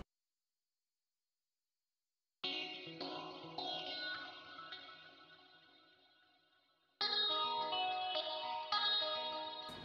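A guitar-like synth plugin called Arcade, processed with effects in an Afrobeat production, rings out in two sustained, reverberant phrases after a stretch of silence, the first decaying slowly before a brighter second phrase enters.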